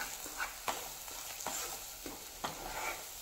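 Egg bhurji is stirred in a pan over a medium flame. A spatula scrapes the pan about six times in a loose rhythm over a continuous gentle sizzle.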